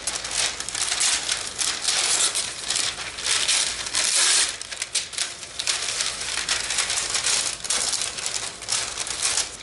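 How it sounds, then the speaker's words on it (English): Parchment paper is handled and crumpled up close, with dense, continuous crinkling and crackling that rises and falls for several seconds without any talk. "Parchment paper, not wax paper."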